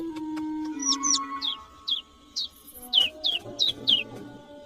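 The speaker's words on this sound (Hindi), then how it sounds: "एक नन्हा सा पंछी।" A small cartoon bird gives a series of about ten short, high chirps, spaced irregularly, clear and close against a quiet low hum.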